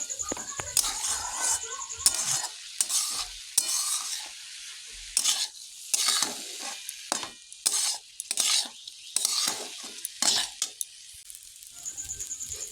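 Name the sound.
ginger-cumin paste and chopped tomato frying in pan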